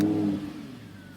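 A deep Audi 5.2-litre naturally aspirated V10 engine in a second-generation R8 (Type 4S) roars loudly with a rising rev, then settles back toward a rumbling idle, heard alone without voices.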